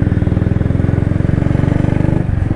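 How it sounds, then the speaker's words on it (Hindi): A Royal Enfield motorcycle accelerates along Bailey Road in Patna at night, its loud, close exhaust thumping in a steady, rapid rhythm with no talk. "तो इस वाले रोड पर थोड़ा सा बाइक को खींचेंगे"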